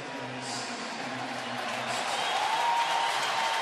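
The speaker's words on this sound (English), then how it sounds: "unleashed a roar as Harvey came off the field that I don't think we've heard before" A baseball stadium crowd roars and applauds as a pitcher leaves the field, a broad, steady swell of distant cheering and clapping that builds slightly over a few seconds.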